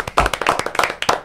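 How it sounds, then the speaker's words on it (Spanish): A studio audience claps to welcome a guest onto a talk show, quick sharp handclaps close by in an uneven rapid patter, loud and brief. "recibimos con un fuerte aplauso al invitado de hoy"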